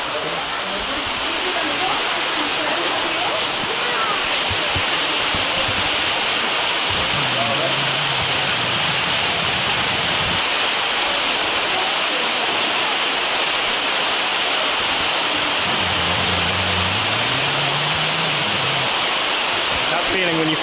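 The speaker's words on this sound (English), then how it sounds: "Hear the water being poured out." Water pouring out at the Nerobergbahn water-ballast funicular in Wiesbaden, a steady loud rushing torrent like a waterfall that continues unbroken throughout, with faint low voices briefly underneath.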